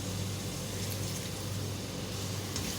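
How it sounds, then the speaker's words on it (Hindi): Water being added to an onion and tomato masala frying in a pan for a chana dal and onion dish, a steady close hiss and bubbling sizzle that holds evenly throughout with no talk. "दो टेबल स्पून पानी डालूंगी इसमें।"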